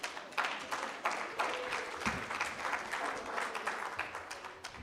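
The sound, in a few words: applause from conference audience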